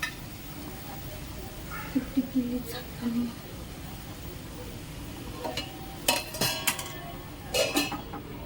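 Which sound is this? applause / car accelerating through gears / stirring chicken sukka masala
stirring chicken sukka masala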